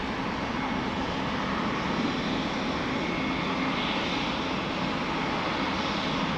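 An Embraer E2 airliner at Amsterdam Schiphol produces a steady, moderately loud engine roar that runs evenly throughout and stays broad and unchanging.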